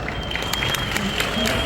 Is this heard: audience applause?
yes